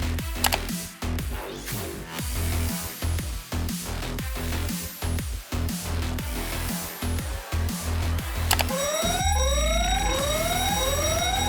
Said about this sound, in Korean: 화재 경보기 버튼을 눌러 연구원들이 대피할 수 있도록 하십시오.